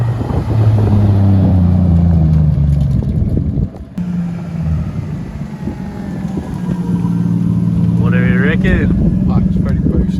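Nissan Skyline R33 engine on stock injectors with exhaust leaks runs loud and steady, with a deep rumbling idle rising into revs near the end while people talk over it.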